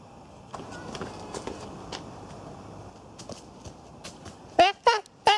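Soft horse hoof clip-clops on a hard surface on a film set under quiet background noise, with a few brighter snorts or whinny-like bursts near the end.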